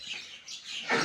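Small birds give a brief burst of high chirps and tweets, faint and somewhat distant, in a short moment with no talking.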